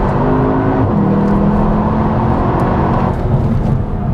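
Cupra Leon 300 engine revving loud and close, a dense continuous roar holding steady with shifting pitch over a few seconds, with no talk over it.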